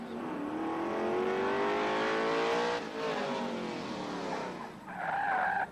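A fire brigade team vehicle pulls away from the starting line at a 1977 New York State championship in Cicero, engine revving up with a rising whine, fading, then surging again, with tire squeal and crowd noise around it.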